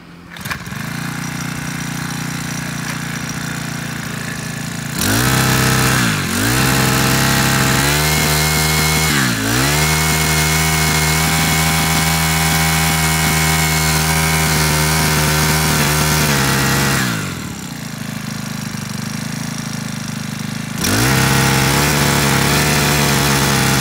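A four-stroke grass trimmer engine with an MM428X shaft runs loud and steady at close range, idling, then rising and holding at higher revs with brief dips between.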